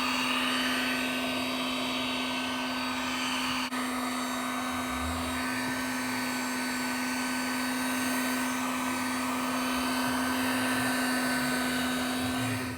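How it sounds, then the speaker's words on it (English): A heat gun blows steadily on the front bumper of a Toyota Camry, giving a continuous loud whirring hum that stays level throughout with no talk. "We're able to push it out with the heater gun."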